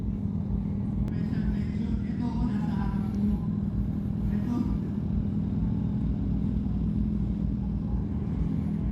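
Red MV Agusta motorcycle engine running with a steady low rumble, held at a constant level throughout, close by, with faint voices in the background.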